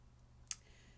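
A single soft click of a computer mouse, brief and isolated over a faint steady hum, with no talking.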